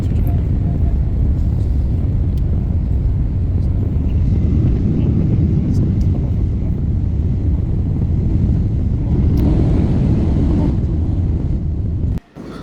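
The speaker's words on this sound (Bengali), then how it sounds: "যথারীতি সঠিক সময়েই টেক অফ করে বিমানটি" A small airliner takes off from a small airport's runway in the Philippines, its engines roaring loudly and steadily for the whole stretch, heard from inside the cabin, before the sound briefly drops out at the very end.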